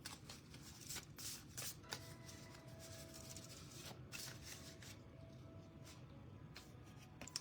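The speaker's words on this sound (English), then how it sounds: "I'm gonna pull some shaman cards." Shaman oracle cards being shuffled close by, with quiet repeated riffling and papery flicks in an irregular rhythm, faint and without talk.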